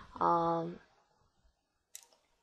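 A computer mouse clicks once in an Excel spreadsheet, a short sharp tick near the end that follows a brief spoken word, quiet and close in a silent room.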